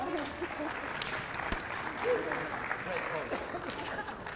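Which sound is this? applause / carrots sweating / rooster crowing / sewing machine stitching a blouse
applause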